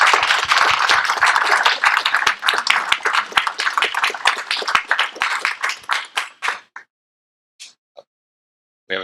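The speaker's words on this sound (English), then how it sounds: "help me in giving him one more strong round of applause" A lecture audience at a stem cell therapy talk claps loudly for a speaker, a crowd of distinct hand claps that thins out and stops after about seven seconds, followed by near silence and a few scattered last claps.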